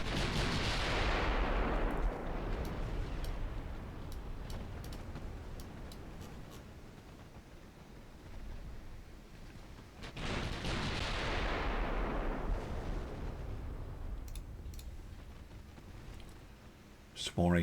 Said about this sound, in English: More AP rounds into it, please.